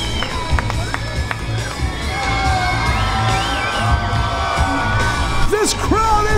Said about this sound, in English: This crowd is going crazy!